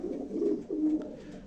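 Two close, low, throaty pigeon coos from a breeding loft roll out one after another, the second drawn out, over soft background noise.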